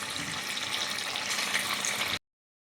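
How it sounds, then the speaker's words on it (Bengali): Pieces of maida dough dropped one by one into hot white cooking oil, a steady broad sizzling hiss that stays close and even for about two seconds, then cuts off. "তেল গরম হয়ে গেছে। এবার এগুলো আমি আস্তে আস্তে ছেড়ে দেবো।"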